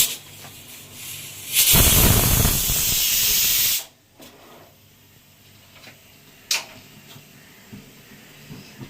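A pressure cooker cooking fish curry lets out a loud, close burst of hissing steam for about two seconds. It then cuts off abruptly, followed by quieter kitchen sounds and a single sharp knock.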